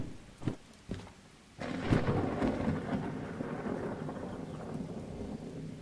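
Thunder and steady rain in the train simulator Derail Valley: a couple of distant rumbles, then a heavy downpour hissing continuously with a low rolling thunder swell beneath.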